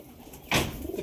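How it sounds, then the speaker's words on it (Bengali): A domestic pigeon gives a single soft, throaty coo up close, rising briefly and fading, with faint rustling behind it. "এটা দেশি পায়রা আমাদের"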